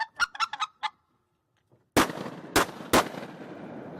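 Three loud shotgun blasts at ducks during a duck hunt in Tunica County, Mississippi, the shots booming close together after honking duck calls and a short pause.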